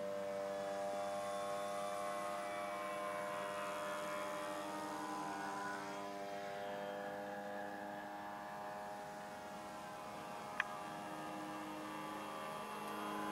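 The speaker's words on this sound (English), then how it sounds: "Sony RC flying the Enterprise." A radio-controlled model aircraft built in the shape of the starship Enterprise flies nearby, its electric motor whining in a steady, slightly wavering drone that shifts pitch as it passes, with no talk over it.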